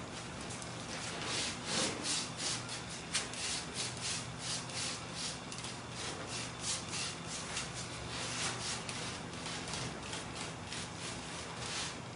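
Cloth wiping stain across the surface of a cast resin product, a steady close rubbing and scuffing with short repeated strokes, soft and continuous, no talk.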